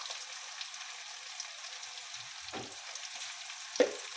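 Garlic and ginger fry in hot oil for a shalgam gosht, a turnip and meat curry, giving a continuous soft sizzle with a few brief spatters and stirring bumps. No one speaks.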